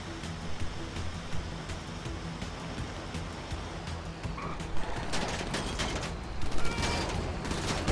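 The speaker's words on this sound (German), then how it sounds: "Wer schießt denn da?" Gunfire in the video game GTA 5: scattered shots and bursts ring out at a moderate distance over a steady noisy game ambience, growing denser and sharper toward the end, with no talking.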